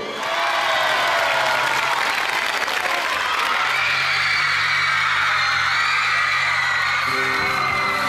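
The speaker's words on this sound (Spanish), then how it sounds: "Un aplauso para recibir a Victorio Danuncio." A large audience at a youth singing competition bursts into sustained, loud applause with whoops and cheering, welcoming a contestant to the stage.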